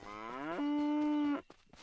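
A cow in a video game lets out a single loud, drawn-out moo that rises, holds steady for about a second, then cuts off into quiet background.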